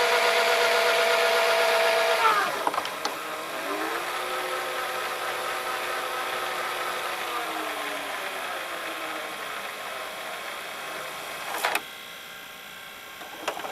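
A Panasonic PV-V4521 VCR running a tape, giving a steady close mechanical whir and motor hum, with a shift in pitch after a couple of seconds and a brief clunk near the end.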